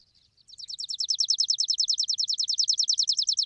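A bird chirps rapidly and repeatedly in a steady, high-pitched trill, close and clear, with no voices.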